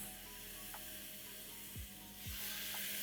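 Onions fry in a pan for a potato curry, giving a soft steady sizzle with a few faint clinks of a utensil, quiet and close, with no voices.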